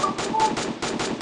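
Rapid automatic gunfire in an emulated shooting video game, several quick bursts in steady rhythm, close and fairly loud with no talk.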